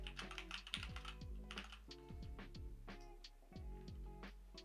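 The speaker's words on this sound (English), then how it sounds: "I gotta type her password, Paul." Someone types a password on a computer keyboard, a quick close run of clattering key presses in short bursts, with a low steady hum underneath.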